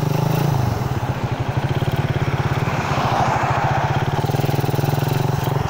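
A Suzuki Raider 150 carburetor motorcycle idles close by at a drag race, its single-cylinder engine putting out a rapid, steady putter with a brief rev at the start and mechanical clatter on top.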